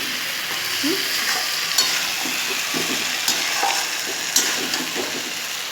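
Spice paste for a potato and fish curry frying and being stirred in a pan, a steady loud sizzle with soft scraping strokes and a few sharper clinks of the spoon throughout.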